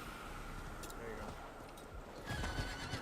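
Horse whinnies and clip-clopping hooves from a video game mount, with speech-like voices over the game sounds and louder hoofbeats toward the end.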